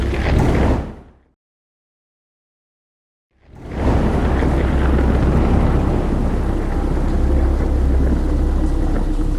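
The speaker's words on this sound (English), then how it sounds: "Just the motion of the leaves on the trees in the graveyard eerily swaying in the wind gave her the chills" Wind roars through graveyard trees on a stormy night with heavy showers, a loud, dense rush. It fades into a few seconds of total silence, then returns as a steady, sustained roar.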